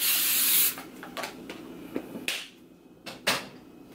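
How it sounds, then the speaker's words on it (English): A sustained hiss of cooking spray onto a rectangular baking pan runs for about half a second, then a few short spray bursts and light clicks follow against a quiet background. "you're going to want to spray like a rectangular or square pan"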